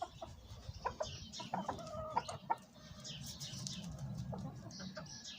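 Several Black Sultan chickens cluck and squawk in short, irregular bursts at close range, with a steady low background hum and scattered rustling.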